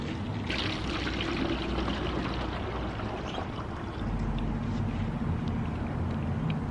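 Tie-dye liquid poured from a bottle, a steady close-up trickling and splashing of liquid that runs continuously throughout without pause.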